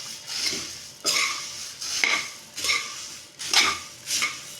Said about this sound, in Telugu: ఇప్పుడు ఈ మొత్తం మిక్స్ చేసేసుకోండి